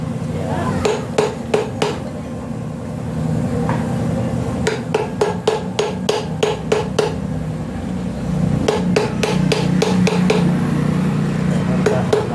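Metal hammer strikes knocking out a motorcycle rear hub bushing, loud ringing clanks coming in quick bursts of several blows separated by pauses, over a steady background hum.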